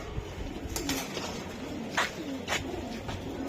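A tired racing giribaz pigeon coos in soft, repeated low calls over a steady rustling background, with no talking.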